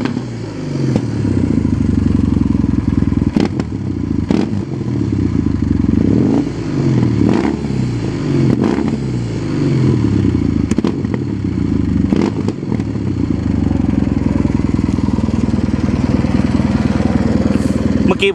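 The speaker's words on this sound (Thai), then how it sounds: "มาฟังเสียงจังหวะเปิดคันเร่งกันหน่อย" Kawasaki W800 motorcycle with a modified exhaust tip on a stock-style pea-shooter pipe, revved repeatedly while standing; loud, close throttle blips rise and fall over a rumbling idle with some clatter.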